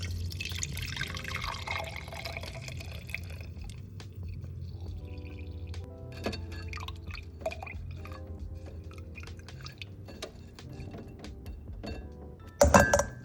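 Dark djon djon mushroom liquid is poured while cooking Haitian black rice, a soft steady trickle with drips and occasional clinks of glass or utensils, faint and close, no talk, ending in a sharper clatter.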